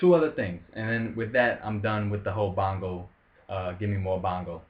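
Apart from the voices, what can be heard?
No distinct noise like a dog, phone or traffic.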